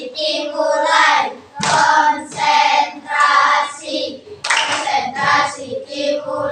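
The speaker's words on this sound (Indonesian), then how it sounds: "Mari kita lakukan tepuk konsentrasi." A classroom of children claps in a rhythmic concentration-clapping routine, sharp bursts of hand claps mixed with loud group chanting voices in a steady, repeated pattern.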